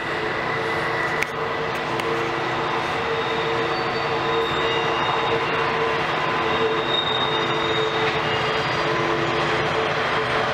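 A long freight train with two pusher engines grinds around the Horseshoe Curve near Altoona, a loud, steady rumble of rolling cars and engine drone with faint wheel squeal, no talk.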